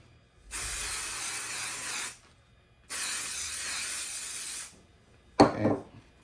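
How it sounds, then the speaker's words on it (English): Adhesive spray from an aerosol can applied to fabric for embroidered appliqué: two sustained hissing bursts of about a second and a half each, close and steady, separated by a short pause, then a brief rustle of handling. "all I'm going to do now is just apply this adhesive spray"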